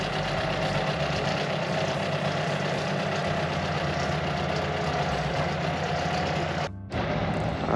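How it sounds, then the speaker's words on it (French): Manitou telehandler engine idling, a steady loud diesel rumble with knocking texture throughout, briefly dropping out near the end before resuming. "on voit qu'il a les moteurs allumés parce qu'il crache"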